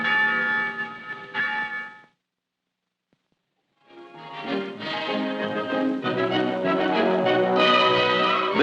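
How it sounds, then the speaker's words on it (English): Church bells ring out on town meeting day in a small town in 1950, a steady loud peal with rich tones that breaks off into a brief silence, then resumes fuller and denser with overlapping strokes. "On town meeting day, the church bells bring the people out."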